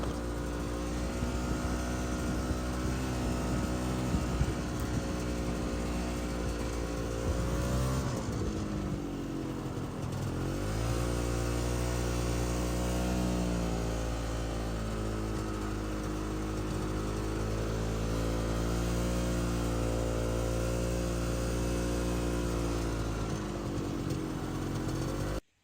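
A snowmobile engine drones steadily through a snowy Siberian forest, loud and close, with a brief dip and re-rise in pitch as the rider eases off and accelerates again, and no talk.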